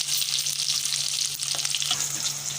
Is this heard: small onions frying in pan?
yes